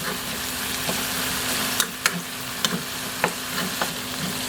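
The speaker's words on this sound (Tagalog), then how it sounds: "gisa natin ng konti kahit medyo maliit yung space natin" Garlic sautéing in a pan for chicken adobo: a steady close sizzle of frying with a few sharp scrapes and taps of a stirring utensil, no talking.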